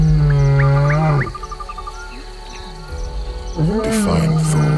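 Nomadic male lions give deep, loud, throaty roars that echo down a river valley, with grunting bursts separated by a pause filled with crickets and other insects.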